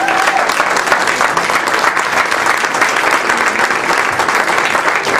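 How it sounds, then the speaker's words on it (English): Steady, thick applause from an audience at a memorial tribute event, continuous clapping at an even level throughout with no pause. "Let's give him another well-deserved round of applause."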